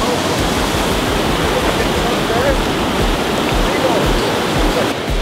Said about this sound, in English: see how that water's recirculating back upstream?